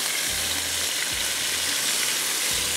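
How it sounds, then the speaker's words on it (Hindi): Chicken sizzling with garlic in a pan over a high flame, a steady loud frying hiss throughout with occasional stirring knocks. "अब थोड़ा सा हाई फ्लेम पे इसको फ्राई करो"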